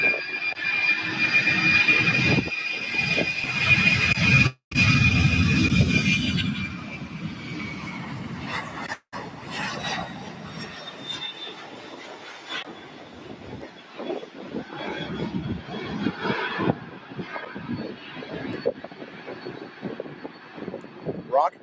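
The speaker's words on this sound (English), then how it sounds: "And a parallel 767 takeoff." A Boeing 767 jet takes off at SDF airport with a loud, sustained engine roar that slowly fades as it climbs away, while people talk over it.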